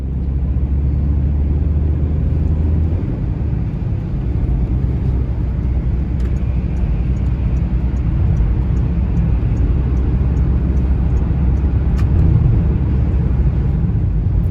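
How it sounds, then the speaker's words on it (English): Citroen C3 HDi diesel car, which has a turbo overboost fault, cruising on a dual carriageway at about 70 mph, heard from inside as a steady low engine and road rumble with broadband tyre and wind roar throughout. "I've been driving for a little bit now on the dual carriageway doing 70"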